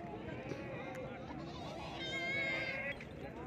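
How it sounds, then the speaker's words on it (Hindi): Goat bleating amid a busy livestock market at Shahpur Kanjran, Lahore, with a crowd murmuring around it and one longer wavering bleat standing out near the end. "अच्छा ये एक बकरी चेक करवाते हैं आपको"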